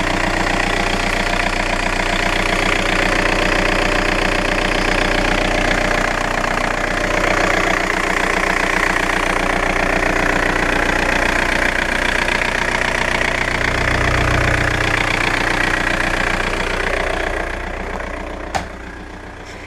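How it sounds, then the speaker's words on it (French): A Seat Ibiza 1.9 SDI diesel engine idles steadily with a loud, close, tractor-like knocking rumble that holds for most of the clip and then fades slightly near the end. "Donc c'est un bon gros diesel quoi, hein, ça fait un peu un bruit de tracteur"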